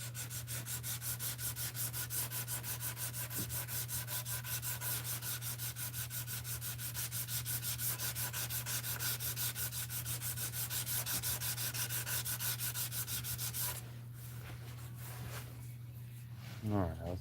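A hard metal piece is worked down with sandpaper through a progression of grits, giving steady, close, rhythmic rubbing strokes that run continuously for most of the stretch before stopping abruptly near the end.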